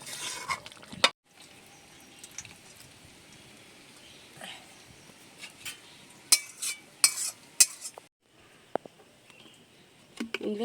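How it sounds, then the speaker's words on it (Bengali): Meat curry with garam masala stirred in a pan, with scattered scraping and clinking utensil strikes against the metal over a faint low sizzle and brief quiet gaps. "গরম মশলা দিয়ে দিচ্ছি নেড়ে চেড়ে লাভিয়ে দেবো"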